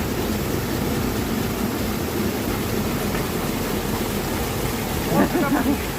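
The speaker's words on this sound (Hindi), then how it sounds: "ये चश्मा देखिए कैसे बह रहा है।" A cold spring stream at Hanna Lake near Quetta flows in a steady, broad rushing wash, with a brief faint voice near the end.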